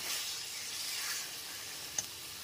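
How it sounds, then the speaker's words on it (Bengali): Ground spices sauté with ridge gourd in a pan over a medium gas flame, a soft, steady sizzle and hiss with one small pop near the end. "গ্যাসের ফ্লেমটা মিডিয়ামে রেখে মশলাটা খুব ভালো মতো কষিয়ে নিচ্ছি"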